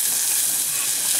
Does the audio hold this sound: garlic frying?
yes